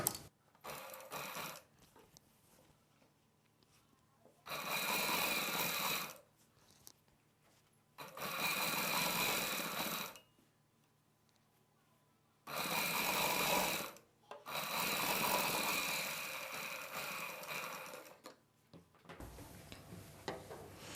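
Sewing machine stitching the top seam of a full-hand puff sleeve: five steady motor-driven runs of two to three seconds each, separated by quiet pauses, fairly close and alone.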